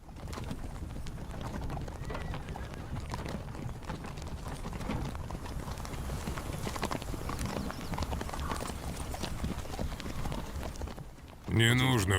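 Horses trotting with steady clip-clopping hooves, close and continuous, with birds calling in the background during a travelling army's journey past Nanzheng; a louder burst of sound ends the passage.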